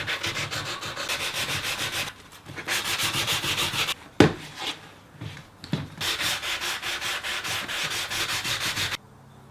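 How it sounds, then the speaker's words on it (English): Hand sanding the curved edge of a clear plastic router base for a Trend T4 router, a steady close scraping rasp in long back-and-forth runs with a few short pauses and a knock partway through. "Just going to sand that there a bit rounder up to the line."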